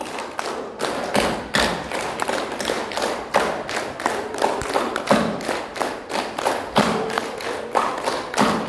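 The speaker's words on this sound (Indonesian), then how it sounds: "tepuk 5 kali" A group of people clapping hands in repeated bursts, sharp close claps landing in steady rhythmic sets across the whole stretch with brief gaps between groups, no talking over them.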